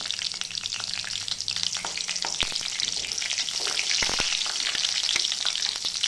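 Garlic and green chili fry in hot oil for a val bean pod dish, a loud continuous sizzle close by with crackling spits and occasional stirring scrapes, no voices.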